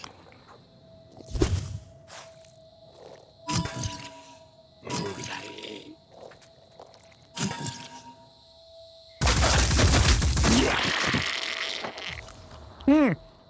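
Turret gunfire in the video game Phoenix Point: a string of short, sharp bursts gives way to a loud, sustained barrage of crashing impacts and debris near the end, with game effects and a faint tone running underneath.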